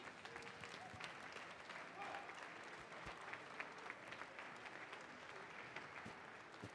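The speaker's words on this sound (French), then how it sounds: "on les applaudit" An audience applauds at the award ceremony of the French coffee championship finals, a continuous patter of clapping that sounds fairly distant and subdued and carries on for several seconds with faint crowd murmur mixed in.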